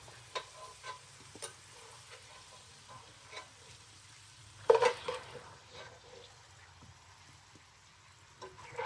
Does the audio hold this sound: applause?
no